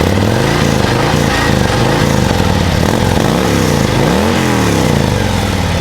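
A 2023 Harley-Davidson CVO Street Glide in Dark Platinum with black chrome exhaust runs loud and close, its engine note rising and falling through several revs with no pause.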